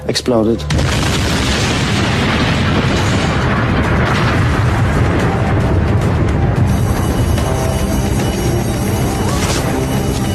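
A massive van bomb explosion booms, followed by a long, loud roar of chaotic noise and debris, with voices and commotion mixed in throughout.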